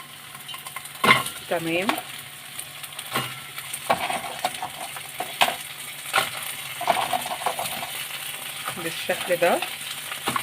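Crab pieces added one at a time into a pot of softening onion fry with a steady sizzle, punctuated by stirring scrapes and brief clinks, while a voice speaks briefly over the cooking.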